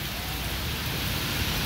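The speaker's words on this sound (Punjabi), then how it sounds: "ਸਾਉਣ ਮਹੀਨੇ ਦੀ ਬਾਰਿਸ਼ ਜੋ ਲੋਕਾਂ ਨੂੰ ਬੜੇ ਲੰਬੇ ਸਮੇਂ ਤੋਂ ਇੰਤਜ਼ਾਰ ਸੀਗਾ" Heavy monsoon rain of the Sawan month pours steadily with strong wind, a dense, even roar of broadband noise without pause.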